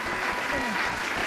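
Brief audience applause on a television game show, a short burst of crowd clapping with a voice faintly over it.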